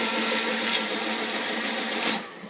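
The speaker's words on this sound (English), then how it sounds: "You're just going to put that into your blender, whatever you have. And this is going to get loud for a second." A kitchen blender whirs steadily while mixing a coffee drink, a loud continuous motor hum with broadband whine that swells briefly near the end before easing off.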